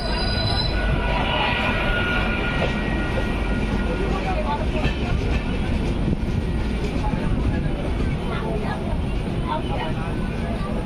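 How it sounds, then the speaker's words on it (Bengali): The Puri–Shalimar Dhauli Express, train 12822, pulls into Balasore station with a continuous loud rumble and a high, sustained squeal of wheels on rails throughout, with faint voices beneath. "দুশো 268 কিলোমিটার জার্নি কমপ্লিট করে আমাদের ট্রেন এখন এসে পৌঁছালো বালেশ্বর স্টেশনে।"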